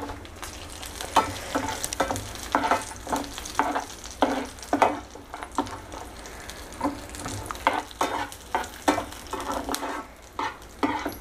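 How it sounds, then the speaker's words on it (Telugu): Raisins and cashews fry in a pan for snake gourd halwa, with a steady close sizzle and repeated scraping stirs throughout and no talking. "ఇప్పుడు ద్రాక్ష వేసుకుందాం"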